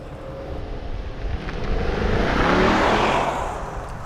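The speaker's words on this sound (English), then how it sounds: "2022 Mercedes Maybach S580 without launch control." A 2022 Mercedes-Maybach S580 accelerating hard from a standstill without launch control, a smooth rising engine and road roar that swells to a peak midway and then eases off, with no talking.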